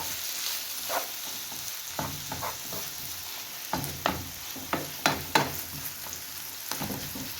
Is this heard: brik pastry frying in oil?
yes